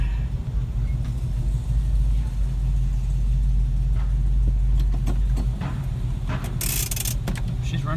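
A Plymouth Duster's engine idling, a steady low rumble that stays up close and even throughout, with some faint clicks and noise near the end.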